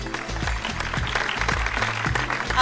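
An audience at a talk show claps briefly over a thumping, rhythmic music bed, with the applause sounding scattered and partly masked.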